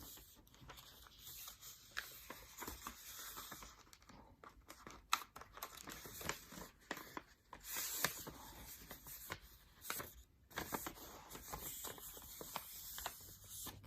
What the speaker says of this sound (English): got my corners even, crease it, crease the other side